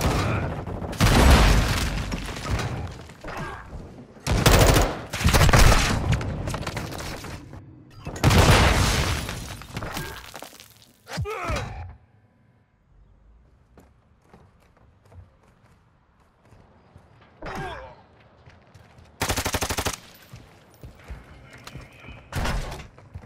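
Bursts of automatic gunfire from a Modern Warfare II Cyber Attack match, loud volleys separated by quieter stretches with faint game sounds in between.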